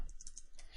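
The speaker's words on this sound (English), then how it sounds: "So I'm going to type a network ID just kind of randomly off the top of my head" Typing a network ID on a computer keyboard: a quick run of light key clicks, close and quiet, in an uneven rhythm.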